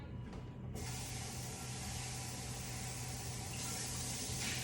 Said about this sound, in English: Rinse that out.